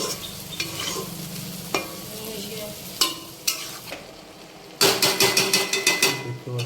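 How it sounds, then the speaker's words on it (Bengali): Elephant foot yam stalks and prawns are stirred in a pan, with a soft bubbling sizzle under scattered spatula knocks that turn into a quick run of rhythmic scraping strokes near the end. "তাই একটু নেড়ে দেওয়া হচ্ছে"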